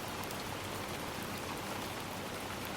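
Steady, dense rain patters evenly across the whole stretch, a close, continuous wash of droplets with no pauses or voices, the kind of soft downpour used for ASMR.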